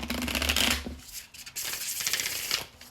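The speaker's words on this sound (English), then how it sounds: "Alright, this is the last shuffle" Tarot cards shuffled by hand in a brisk, crisp riffle of papery flicks, close and clear, broken by a short pause before a second burst of shuffling.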